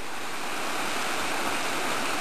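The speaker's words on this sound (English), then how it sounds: "Crossing Offie Creek." A creek in the Kokoda area being crossed on foot, its flowing water a steady, full rush of broadband noise throughout, close and loud with no talk.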